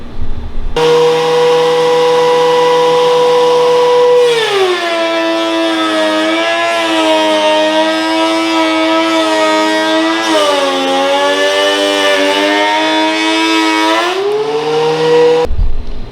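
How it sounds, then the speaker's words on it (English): A thickness planer whines loudly and steadily as wooden cutting boards are fed through, its pitch dropping and recovering as each board passes the cutter before the machine winds down. "now let's run them through the thickness planer and try to clean them up a little bit"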